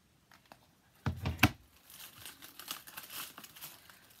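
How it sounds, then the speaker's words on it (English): Plastic wrapping is peeled off a makeup palette, giving a sharp crinkling burst followed by a few seconds of softer, close rustling and crackling. "So I'm just going to unwrap."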